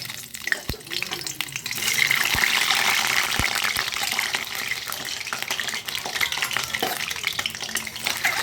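Eggs fry in hot oil in a pan for a milk-based egg curry, giving a steady close-up hiss and sizzle with a few soft taps, and no talking.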